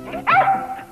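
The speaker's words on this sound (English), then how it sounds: "This welcome home scene between Marilyn and the family dog, a 15-second sequence, took a full day to shoot" A family dog gives a single short bark-whine, close and clear, during a welcome-home scene on a film set.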